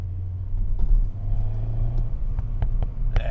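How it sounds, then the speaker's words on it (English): A 2013 Mini Cooper S Roadster with a 6-speed idles and rumbles on its exhaust, with several short, sharp pops and bangs crackling over the low drone, close and fairly loud. "There's those pops and bangs."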